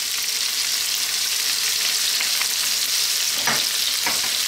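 Onions and garlic ginger paste sizzling vigorously in a hot pan for a chicken potato curry, a steady dense frying hiss throughout with a brief stir near the end.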